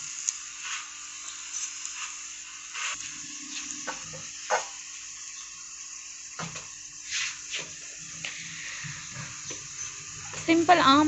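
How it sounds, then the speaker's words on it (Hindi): Corn flour roti, makki ki roti, frying in oil on a pan, giving soft intermittent sizzles and crackles with occasional scraping or stirring clinks, fairly quiet and close, with brief louder bursts near the end. "और इसको हम ऑयल लगा के फ्राई कर रहे हैं।"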